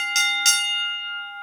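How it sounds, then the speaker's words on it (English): A bell rung to open a debate round, two sharp metallic strikes in quick succession followed by a clear ringing tone that slowly decays, alone and close. "Ring the bell."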